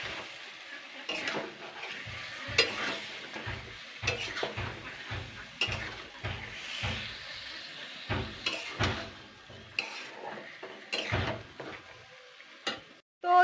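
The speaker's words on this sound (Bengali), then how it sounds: "এইবার এইটা দিয়ে ভালো করে কিন্তু 15-20 মিনিট কষাতে হবে।" Chicken curry with potatoes, a Bengali deshi murgir jhol, is stirred and fried in a pan. A spoon scrapes and clinks against the metal in repeated taps, with a soft sizzle underneath, close and fairly quiet.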